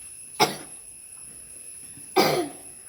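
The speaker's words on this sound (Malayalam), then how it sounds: "ചുമക്കുണ്ടല്ലോ നല്ലോണം." A person coughs twice, close and abrupt, about two seconds apart, each a short harsh burst over a quiet indoor background with a faint steady hum.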